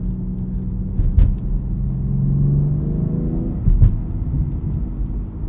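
A 2022 BMW X3 M Competition's 3-liter twin-turbo engine drones steadily from inside the cabin while driving, with a loud low rumble, a few short throttle swells and subtle exhaust burbles, and no talking.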